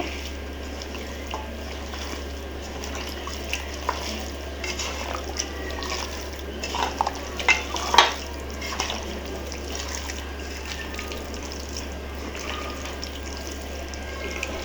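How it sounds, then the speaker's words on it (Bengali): Beef being mixed by hand with oil in a bowl, giving close, wet squishing and sticky smacking sounds that grow busier toward the middle, over a steady low room hum with no talk. "এখন আমি সুন্দর করে এগুলোকে মাখিয়ে নিব।"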